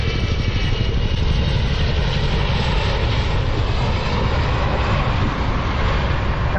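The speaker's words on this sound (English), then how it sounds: "there's that Chinook" A Chinook helicopter passes over Salisbury Plain with a loud, steady roar of rotors and engines that fills the air without a break.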